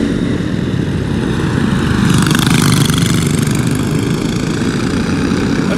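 Cosmic rental go-kart engines racing at Orlando Kart Center in a Pro League race: a loud, continuous buzzing drone from several small engines, rising and swelling as karts pass close by.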